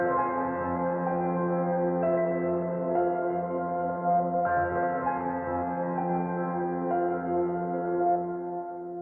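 A textured, processed piano from the Heaviosity Evolved Mutations 2 library plays a dense, sustained passage with soft repeated attacks, forming a continuous murky bed of sound without any voices.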